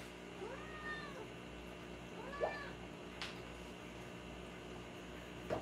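A house cat meows several times after being sat on, a few short rising-and-falling cries spaced across a few seconds, faint against a steady low hum in a quiet room.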